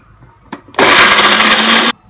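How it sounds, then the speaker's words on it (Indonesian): A blender roughly grinds spice paste for jumbo lava bakso, roaring loud and steady for about a second after a brief click, with a faint tone beneath the whir, then cutting off sharply. "Bumbunya kita blender ya,"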